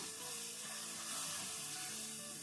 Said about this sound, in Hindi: तो अब इसमें हम डालेंगे दूध